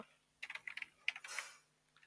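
Keys on a computer keyboard are tapped in short quick bursts with pauses between them, faint and close, with no one speaking.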